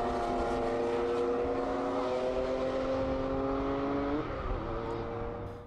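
A Porsche 911 race car engine drones loudly and steadily with strong layered harmonics, pitch holding then dipping slightly near the end as it passes or lifts off.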